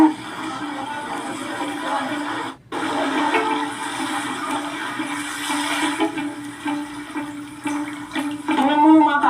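Swirling seawater of a whirlpool in Surigao City, a continuous rushing, gurgling roar close by with a brief dropout, building again toward the end.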